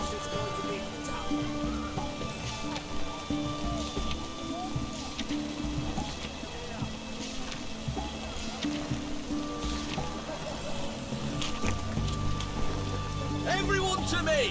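Steady rain falls in The Witcher 3 video game, a constant wash of pattering drops with game ambience and faint tonal sounds beneath, continuous throughout and rising slightly near the end.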